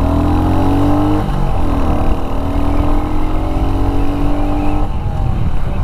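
A Royal Enfield Hunter 350 motorcycle accelerates steadily, its engine note climbing through the gears as loud, continuous exhaust drone carries over road and wind noise.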